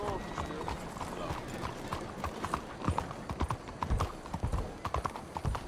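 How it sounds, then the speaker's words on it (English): Horse hooves clip-clop steadily during a ride in Red Dead Redemption 2, a close rhythmic clatter of hoofbeats running throughout with someone talking over it. "when we're on a horse ride"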